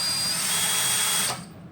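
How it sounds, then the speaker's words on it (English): A cordless drill running on its slow setting spins a Clam ice fishing auger power drive, a loud, steady mechanical whir that winds down abruptly near the end. "So you guys can see the drill is spinning"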